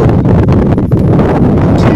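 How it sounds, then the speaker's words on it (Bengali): Steady, blustery wind rushing past, with a soft rustle of leaves mixed into the constant noise and buffeting against the microphone. "এবং গাছের পাতায় বাতাসের শব্দ"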